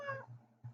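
A pet cat named Smokey gives a faint, brief meow, followed by a softer second mew, heard close in a quiet room.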